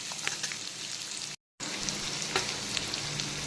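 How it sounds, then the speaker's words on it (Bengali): Chopped onions fry in a pan for a mutton curry, giving a steady, fairly quiet sizzle with faint crackles and stirring, broken by a brief moment of silence partway through. "পেঁয়াজ কুচিটাকে হালকা বাদামি কালার করে ভেজে নেব"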